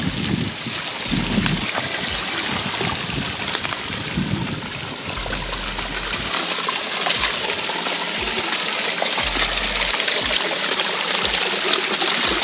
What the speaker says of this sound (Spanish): Ay, el agua. El agua, donde hay agua y vida.